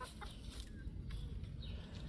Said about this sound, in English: Chickens checking for any slugs and pests.